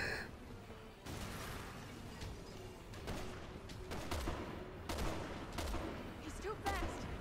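Gunfire in Resident Evil 6 crackles through steady game noise, a string of sharp shots spaced irregularly, some in quick clusters, fairly distant and moderate in loudness with faint background talk.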